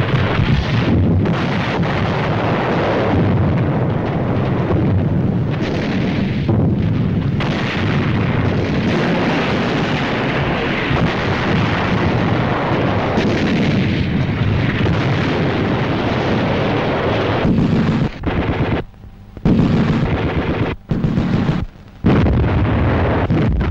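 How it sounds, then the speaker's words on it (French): Allied artillery cannons fire during a battle, a continuous heavy rumble of deep booms and bursts with gusty wind noise and a few sharper breaks near the end. "Le grondement des batailles se rapprochait, les canons alliés parlaient déjà de vengeance"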